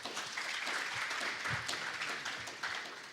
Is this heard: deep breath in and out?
no